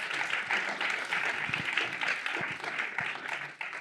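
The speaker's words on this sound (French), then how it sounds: "Ça mérite quelques applaudissements." A crowd at a French-language political science talk claps and applauds continuously for several seconds, a dense steady patter of hands with no voices standing out.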